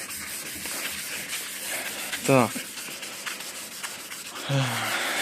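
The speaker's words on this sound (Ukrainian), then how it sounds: "Шліфунули ми." Hand sanding of a painted surface being scuffed before refinishing, rough scraping strokes in bursts under occasional speech, with two louder rasping passes.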